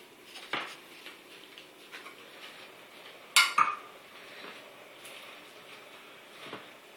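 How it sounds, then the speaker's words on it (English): Potatoes go into a pot of spinach in a home kitchen, a quiet scene of scattered light clinks, scrapes and taps of a utensil against the pot, with one sharper metallic clatter midway. "Now we're going to add the potatoes."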